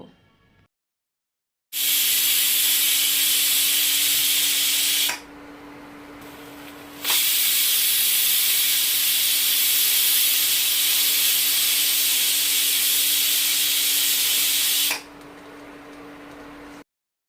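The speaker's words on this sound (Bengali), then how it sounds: "প্রেশার কুকারে আমি দুইটা সিটি দিয়ে নিয়েছি আর বাষ্পটাও বের করে নিয়েছি" Loud, continuous steam hissing close by from a pressure cooker on an induction cooker, broken by a brief drop in intensity, then surging again before easing near the end.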